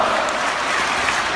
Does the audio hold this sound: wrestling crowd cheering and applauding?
yes